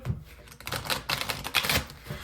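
A tarot card deck is shuffled by hand up close, giving quick, irregular papery clicks and riffles at a low level.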